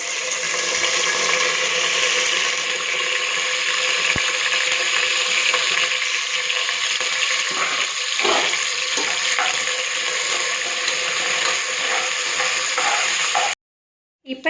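Tempering spices splutter and crackle loudly in hot oil inside a pressure cooker, a dense, continuous hiss with sporadic pops that carries on steadily before stopping abruptly near the end.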